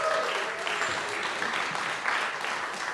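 Concert-goers at a jazz combo night clap steadily in a close, even round of applause for the bassist, with a few voices mixed into the crowd noise.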